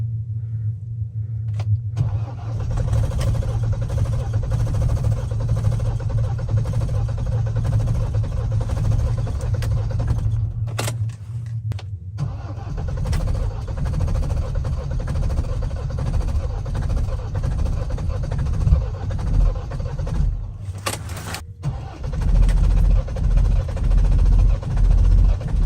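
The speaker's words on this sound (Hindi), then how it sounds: "लेट्स ट्राई, अगर गाड़ी स्टार्ट हो जाती है तो करनी पड़ेगी हर हाल में।" A car engine being started in freezing cold weather in Ladakh, with a nearly dead battery struggling on the self-starter. A close, steady low rumble fills the whole stretch, broken by a few brief cut-outs and restarts, with no talking.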